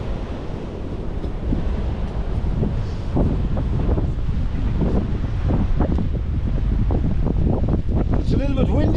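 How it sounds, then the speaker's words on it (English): Steady wind buffets a microphone outdoors in Dordrecht, Netherlands, producing a continuous low, rumbling roar that stays loud throughout, with faint voice-like sounds mixed in near the end. "It's a little bit windy, but it's dry."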